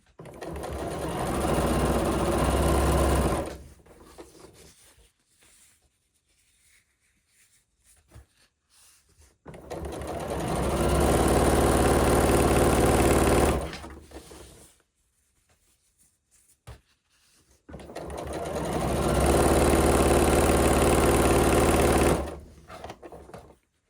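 A sewing machine stitches piping in three long, loud bursts of rapid mechanical whirring, separated by pauses of near silence.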